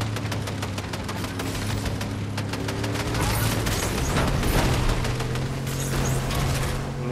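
Rapid bursts of gunfire in a Fortnite duo final-circle fight, dense repeated shots over a steady game background with some heavier booms, loud and continuous throughout.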